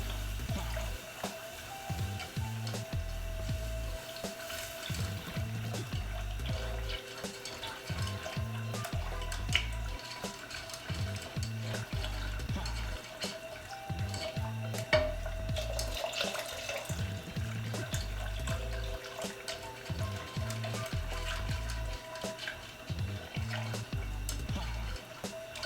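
Leftover turkey broth runs into a pot with a steady liquid splash and trickle, a low rhythmic thumping in the background and no talking throughout.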